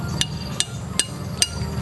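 Four sharp hammer strikes drive a nail into a papaya tree trunk, evenly spaced about 0.4 seconds apart, over a steady low outdoor background rumble.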